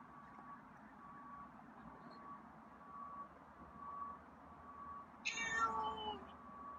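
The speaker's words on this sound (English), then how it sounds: "Oh, meow." A quiet outdoor hum, then a single clear meow from a feral cat near the end, fairly close.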